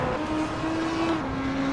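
GT race cars in the Hot Wheels video game drive with a steady engine drone that shifts pitch as they accelerate, a continuous, moderately loud tone without talk.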